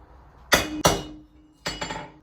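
A hammer forges hot steel to thin the end of a wood chisel, ringing out in two pairs of sharp metallic strikes separated by a short pause.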